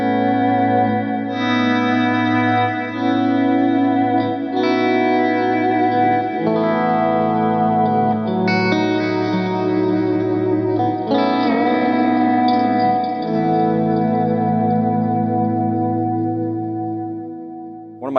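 Electric guitar through a Line 6 POD HD Pro effects processor rings out sustained, chorused and echoing chords with a slightly overdriven edge, loud and continuous for the whole stretch, layered and shimmering with no talking.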